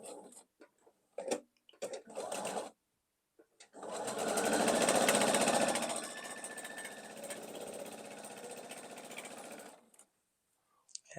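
A sewing machine stitches a pieced quilt triangle: short start-stop bursts of mechanical whirring, then one longer continuous run of rapid stitching that fades and stops, close by and fairly quiet.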